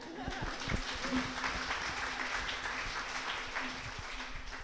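Audience applause at a Bay Area radio hall of fame ceremony, a steady wash of many hands clapping at moderate distance with a faint voice underneath.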